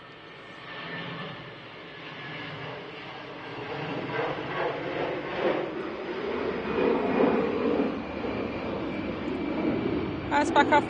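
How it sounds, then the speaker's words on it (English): An Iberia Airbus A320 takes off at Manchester Airport, a distant jet roar that swells and rumbles, with someone talking over it throughout. "Iberia's about to rotate."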